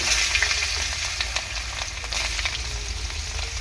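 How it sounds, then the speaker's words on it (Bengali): Potatoes frying in hot oil: a loud, continuous close sizzle with crackling pops and occasional stirring scrapes, heard alone. "আলু কটা ভেজে নেব আলুগুলো দিয়ে দেবো"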